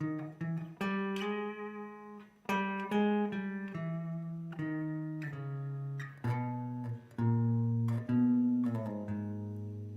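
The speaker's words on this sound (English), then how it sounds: "The harmonic minor scale sounds like this." Bass guitar plays a harmonic minor scale, single plucked notes stepping one after another in an even rhythm, close and clear, with no talking.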